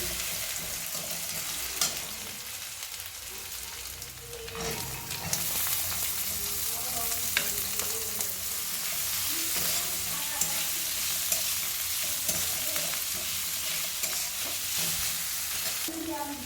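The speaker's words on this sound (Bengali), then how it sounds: "রসুন দিয়ে কিছুক্ষণ এর রসুনটা ভেজে নেব" Crushed garlic fries in oil with a continuous hissing sizzle, moderately loud and close, broken by occasional light stirring clicks over a long stretch.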